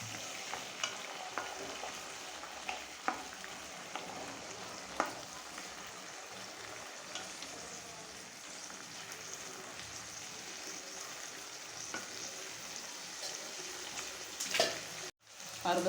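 Tomato added to reddish-browned onions fries in a pan with a soft, steady sizzle. Occasional stirring clicks and scrapes come through at a moderate distance, and a sharp clatter near the end breaks the sound briefly.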